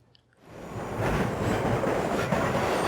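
After a brief quiet start, a rumbling train from the train level of the retro beat 'em up game 198X swells in and holds steady, a loud continuous roar of rolling wheels with faint rhythmic clatter.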